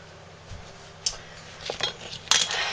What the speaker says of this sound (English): I'm using a spatula to scrape all the goodness out of my bowl